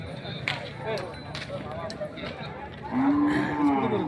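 Bulls gathered at a village bullock-cart race moo loudly, with a long low bellow near the end over a busy outdoor crowd, and people talk throughout.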